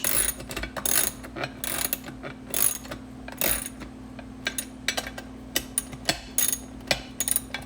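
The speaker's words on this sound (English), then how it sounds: "tighten the bolt down with the torque wrench" A torque wrench ratchets in short, sharp clicking bursts as it tightens a bike seat bolt, close and loud with irregular pauses over a faint steady hum.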